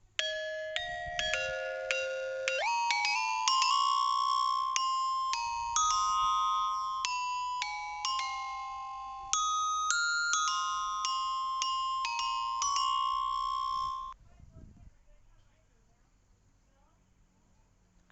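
A Freddy-style music box melody programmed in FL Studio Mobile from a dragged-in MIDI file, playing clear bell-like tones in a steady tune for about fourteen seconds before cutting off.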